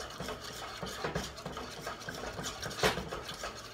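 A spoon stirring a thickening sauce in a pot for an oil-free vegan moussaka, giving a steady, soft scraping and swishing close by, repeating throughout with no voices.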